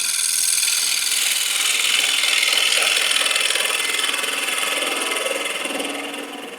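A Hurricane carbide tool makes a light cut inside a flexing wooden bowl spinning on a woodturning lathe. It gives a continuous loud, bright whirring hiss that holds steady and then tapers off near the end.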